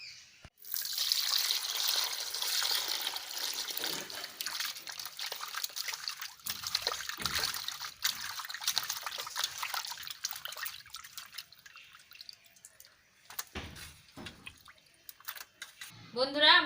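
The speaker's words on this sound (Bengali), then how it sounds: "এখন চলুন পরিষ্কারভাবে ধুয়ে নিই।" Cut pieces of Brigade Cup fish are rinsed under a running tap, with steady splashing and trickling that thins into intermittent drips and handling clatter toward the end.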